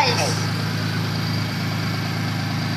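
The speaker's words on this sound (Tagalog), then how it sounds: "Wala namang unusual sound sa makina." A used car's engine idles steadily at close range, giving a low, even rumble with a faint rhythmic pulse throughout. A person is talking over it.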